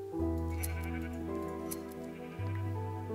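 Sheep in Minecraft bleat over a steady droning background, several overlapping bleats from a large flock with no talking.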